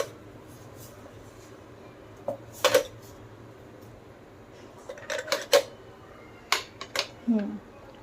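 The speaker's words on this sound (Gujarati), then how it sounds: "હવે આપણે આ જે વાટકીમાં ઢોકળા નું ખીરું મૂક્યું પાથરું છે એ વાટકી મૂકી દઈશું" Bowl of dhokla batter set into a steamer pot, a few clinking, scraping metal knocks of dishes spread across the clip over a low steady hum.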